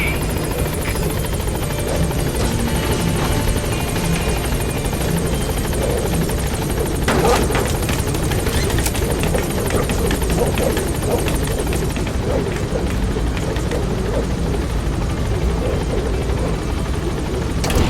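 The B-Quad support helicopter from Metal Gear Solid V arrives at a landing zone, its rotor and engine roar loud, close and continuous throughout.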